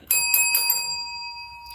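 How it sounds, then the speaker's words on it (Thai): A bright subscribe-notification bell sound effect rings four quick strikes, then one sustained ring fades out, loud and alone. "อย่าลืมกดกระดิ่งกริ๊งกริงนะคะ"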